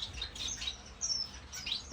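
Small orange-cheeked waxbill finches in an aviary give short, high chirps in scattered bursts, faint and close by over a soft background hum.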